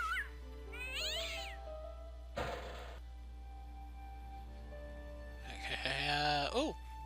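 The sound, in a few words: cat meowing in the video game Broken Sword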